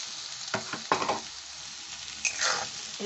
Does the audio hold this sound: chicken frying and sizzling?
yes